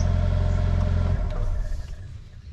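Revving engine of a 2019 Mercedes-Benz A35 AMG hatch, a strong close rumble that holds high, then drops away and fades toward idle with some clatter.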